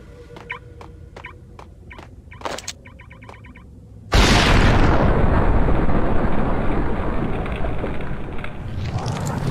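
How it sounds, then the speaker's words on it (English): A bomb blast in the Max Payne video game: a sudden loud explosion bursts in midway and rolls on as a long, dense roar that slowly fades, after quieter scattered clicks and tones. "Asshole just threw a bomb at me."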